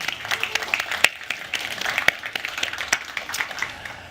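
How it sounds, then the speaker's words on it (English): Applause from a modest audience at a healthcare innovation pitch event, individual claps clearly distinguishable in a loose, uneven patter with several sharp, close hand claps standing out. "Let's give yourselves a round of applause for being here."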